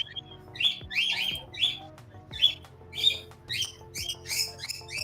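Pet birds chirp indoors, a string of close, bright, repeated tweets at a rough, uneven rhythm over a low background hum.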